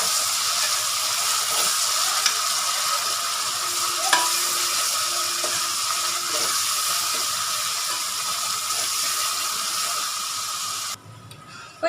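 Ginger, garlic and curd sauté in a hot pan for kalari curry, giving a steady, loud sizzle with occasional stirring scrapes and clinks throughout, easing off slightly near the end.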